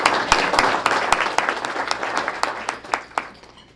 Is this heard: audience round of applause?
yes